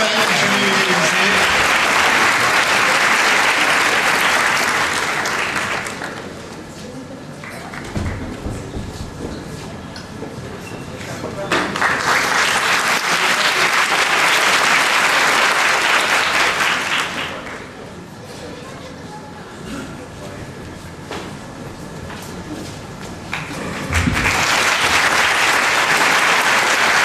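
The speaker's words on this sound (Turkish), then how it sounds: "alkışlayalım lütfen jüri üyelerimizi" An audience at a ceremony applauds jury members in three loud bursts of clapping. Quieter stretches with a speaking voice separate the bursts.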